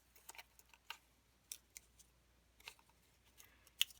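Scissors snip through a sculpted clay Nok head mouth piece, cutting it in half, with several quiet, sharp clicks and crisp cuts spread irregularly and heard close up, the last one loudest.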